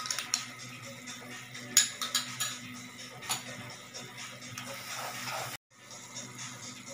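Bread halwa being stirred in a pan with ghee: quiet, scattered scraping clinks of a spoon against the pan, close and soft, with a low steady hum underneath and a brief cut near the end.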